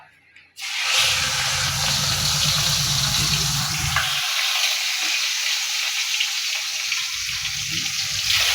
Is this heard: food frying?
yes